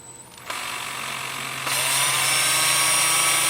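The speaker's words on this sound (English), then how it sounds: "Then I'll switch over to my 2-inch sanding disc and sand the bowl part," A 2-inch sanding disc on a power drill runs against a wooden bowl on a lathe turning at about 350 RPM, a steady high whir that steps up louder partway through and continues alone.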